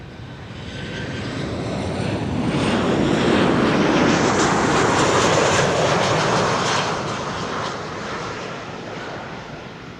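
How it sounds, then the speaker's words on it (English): A Kuwait Airways Airbus A330neo jet roars past at Amsterdam Schiphol, its broad engine rumble building to a loud peak midway and then slowly easing off, with no voices over it. "that was the Kuwait Airways A330neo"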